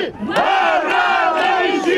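A crowd of police relay race fans shouts the name of their town, Baranovichi, in unison, a loud, close chant of sustained massed voices with rhythmic syllable bursts.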